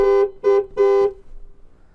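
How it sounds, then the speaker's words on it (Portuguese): 2023 Ford Maverick Lariat FX4 pickup truck horn sounding three times in quick succession, a loud close blaring honk with a strong steady pitch, the third blast held slightly longer. "A buzina dele também é bem buzinona de caminhonete mesmo assim,"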